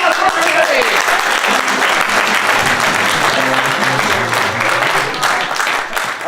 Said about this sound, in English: Big round of applause for everybody!